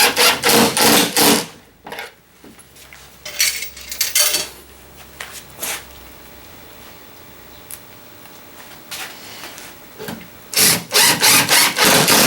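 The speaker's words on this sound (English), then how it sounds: "we'll take some screws and we'll drive them home and lock this guy in" Screws driven into a walnut library cabinet with a power driver, loud close whirring bursts at the start and end, with scattered knocks and handling noises between them.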